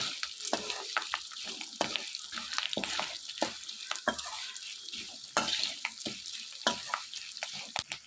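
Spices and turmeric fry in a pan for tamarind pulihora paste: a steady sizzle runs under repeated scraping stirs of a spatula, close and moderately loud, with no talking.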